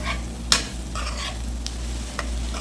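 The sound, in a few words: chilli chicken stir-frying in a pan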